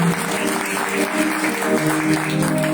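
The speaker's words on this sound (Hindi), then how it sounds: "मैं चाहती हूँ उनके लिए एक दफा जोरदार ताली" A church congregation applauds loudly and continuously, a dense wash of clapping close by with a faint voice underneath.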